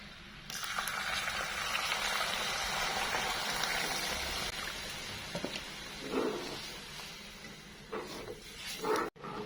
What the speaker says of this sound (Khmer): បន្ទាប់មកនេះខ្ញុំចាក់ទឹកចូល